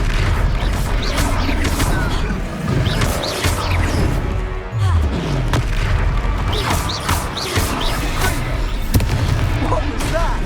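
Spell-combat explosions from the Hogwarts Legacy video game, loud booming blasts and crashes over a dense layer of battle noise and game music, with voices calling out during the fight.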